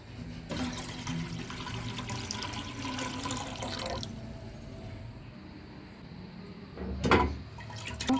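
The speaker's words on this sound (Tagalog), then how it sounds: "maglalagay po ako ng water dito sa ating pressure cooker para po ilaga ang ating karne ng baka" Water pours steadily into a pressure cooker before beef is boiled, a continuous splashing stream that stops, then a brief louder slosh and clatter near the end.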